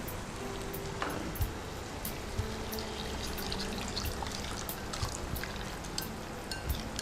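Cornflour and water mixture poured into a pan while cooking paneer chilli, a steady close trickling wash with small splashes running continuously throughout, no voices.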